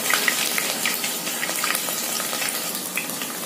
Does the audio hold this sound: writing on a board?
no